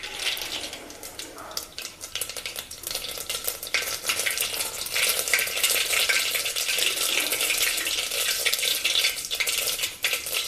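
Mustard seeds spatter and crackle in hot oil in a pan for Indian-style masoor dal, a dense continuous popping sizzle that builds in loudness, with no talking.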